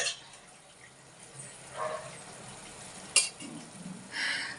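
Brinjal pieces added to a frying pan and stirred while cooking an iguru curry, with faint sizzling, a few soft scrapes and a sharp utensil clink against the pan, quiet and close.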